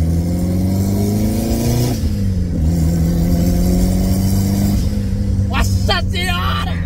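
Honda Civic Turbo revving hard and accelerating up close, a loud rising engine tone with shifts and a turbo whistle near the end, while people talk and exclaim over it.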